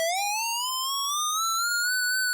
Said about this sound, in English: The oscillator type is a square wave.